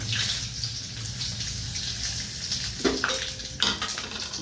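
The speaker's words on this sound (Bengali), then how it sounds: "এটা হচ্ছে তেজপাতা, দারচিনি, ছোট এলাচ, লবঙ্গ আর সাদা জিরে। এবার আমি এইটাকে ফোড়নে দিয়ে দেব।" Whole spices, bay leaf, cinnamon, cardamom, cloves and cumin, sizzle steadily in hot oil, a close crackling hiss with a few clinks of stirring near the end.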